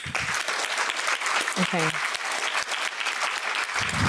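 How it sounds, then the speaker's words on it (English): Sustained applause from a crowd fills the whole stretch, with a brief spoken word partway through. "So another round of applause, please."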